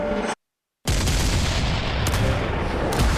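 Pirate cannon fire booms loud and close, a short blast, a sudden dropout, then a dense rumbling roar with further thumping shots layered on top.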